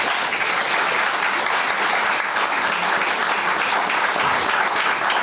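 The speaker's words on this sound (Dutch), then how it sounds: "Geef ze een hartelijk applaus." Warm, even applause from a seated audience at a meeting, a continuous wash of many hands clapping at a steady level for about five seconds, with no talking on top.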